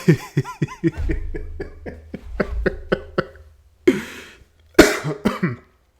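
A rapid string of short, harsh coughs comes in a burst, followed by a few heavier coughs and throat sounds, close and fairly loud.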